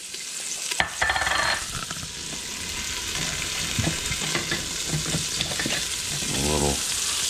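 Chopped onions hit a hot pan for spaghetti sauce and sizzle with a steady fry, broken by scraping stirs and a few clicks of a spoon against the pan, close by.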